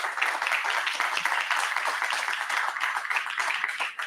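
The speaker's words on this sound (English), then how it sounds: "I think we need to give a massive round of applause for Uzair." An audience at a Brighton tech meetup applauds a speaker, a dense, steady patter of many hands clapping at once, sustained at close range for a few seconds.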